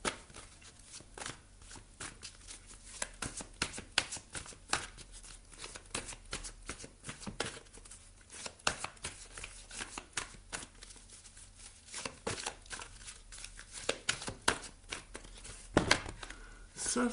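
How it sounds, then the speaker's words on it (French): A John Holland psychic tarot deck is shuffled close up in a quiet room. Dense, rapid riffling and card slaps run continuously, with a few sharper snaps near the end. "On va aller prendre également une carte de tarot ici avec le tarot psychique de John Holland"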